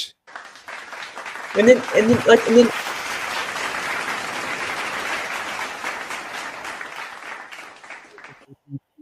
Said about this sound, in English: The audience was giving you a round of applause